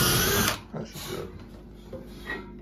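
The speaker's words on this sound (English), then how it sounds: "Just run the drill bit in there." A power drill drives a bit into a wooden stairwell handrail, a loud whine at first that cuts off after about half a second, followed by brief quieter bursts and handling noise.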